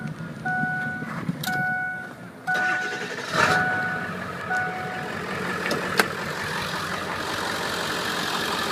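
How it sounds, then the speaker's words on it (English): A car engine cranks over with a few short bursts, then catches and settles into a steady running hum with occasional clicks and knocks. "I'm going to fire it up. Let you listen to it run under the hood."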